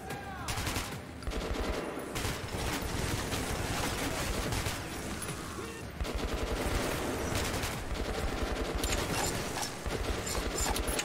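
Gunfire from the video game Metro 2033 in abandoned metro tunnels rattles in dense, loud, continuous bursts of automatic fire that run through the whole stretch with barely a pause.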